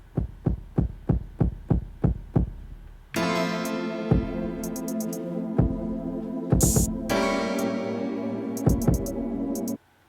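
An MPC beat played through a low-pass filter and a soft clipper: a few evenly spaced, sharp drum hits open the loop, then a dense, sustained, loud groove with steady bass and regular punchy hits runs until it cuts off just before the end.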